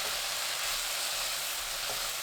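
Steady, even sizzle of eggplant stir-fried in a pan with seasoning sauce, Cheongyang chili and green onion, a continuous hiss up close with no talking.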